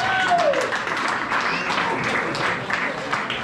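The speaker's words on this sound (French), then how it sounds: "On acclame pour Jésus." An evangelical church congregation at an anniversary service claps and cheers together, dense applause filling the whole clip at a steady, fairly loud level.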